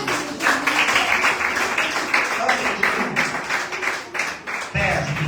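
A church congregation at a French-language healing and deliverance service claps in a steady rhythmic beat, with a loud voice talking over the applause throughout.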